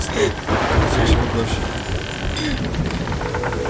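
Thunder rumbling during a storm in the Sea of Thieves pirate game, a loud continuous low roar with a sharp crack near the start, followed by steady rain-like noise throughout.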